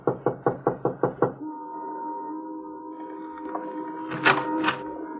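Seven sharp, evenly spaced knocks on a house door come close and crisp in a radio drama sound effect, followed by a sustained low tone and a couple of muffled thumps.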